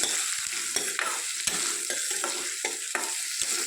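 Chopped onions, green chillies and curry leaves frying in a pan for a drumstick curry, a constant close sizzle broken by regular scraping stirs every half second or so.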